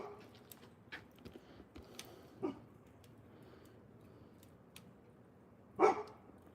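Dogs in an alley, stirred up by a turkey, bark a few scattered times at some distance, with a louder bark near the end over a quiet outdoor background.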